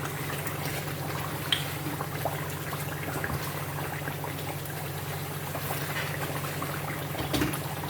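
A steady bubbling sizzle of tomato stew frying in a pot for Nigerian jollof rice, with a constant low hum and no voices.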